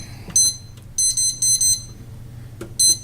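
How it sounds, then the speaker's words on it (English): A kitchen timer beeps in short, bright electronic bursts after being set for one hour, with a single beep, then a quick run of several beeps and one more near the end, loud and close in a quiet kitchen. "We set the timer for 1 hour."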